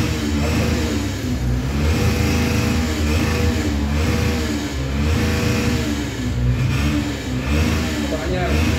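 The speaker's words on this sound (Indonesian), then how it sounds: "Makanya kalau motornya gitu supaya orang lain tahu bahwa dia punya motor baru" A new motorcycle engine revving in repeated rising and falling surges, loud and close, with voices talking over it.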